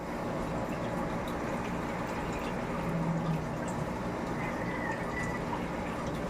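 Water drains out of a home aquarium in a steady trickling and bubbling stream, continuous and fairly close, with no voices.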